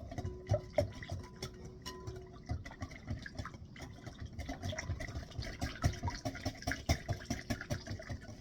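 Cold process soap batter is poured from a bowl into a mould, giving soft, thick splattering and dripping sounds in irregular bursts, close and fairly quiet, with scattered light taps and clicks.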